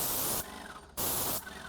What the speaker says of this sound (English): I'm going to just make sure I do all the spraying that's anywhere close to it